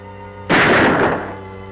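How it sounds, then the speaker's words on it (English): A gunshot sound effect in a radio drama set in the Yukon, a single loud, sharp burst that rings out and decays over about a second above a steady low background hum. "That shot didn't come from the mine."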